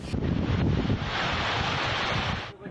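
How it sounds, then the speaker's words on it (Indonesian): Strong coastal wind roars steadily into the microphone at a seaside village in Wakatobi, Southeast Sulawesi, with surf and rushing air mixed in, loud and continuous throughout before dropping off abruptly at the end. "Angin kencang menerjang permukiman warga Kabupaten Wakatobi, Sulawesi Tenggara, Kamis pagi tadi."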